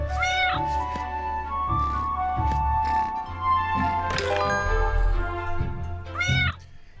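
Repeated cute cat meows from the Sokoban-style puzzle game Mimi the Cat Mew Together, several rising and falling calls over soft game music and light chimes.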